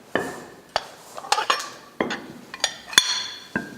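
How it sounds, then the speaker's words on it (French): Dishes being washed and tables set at a communal retreat: sharp, separate clinks of plates and cutlery, about a dozen knocks and chimes at irregular intervals, close by, with no talking. "Faire la vaisselle, dresser les tables"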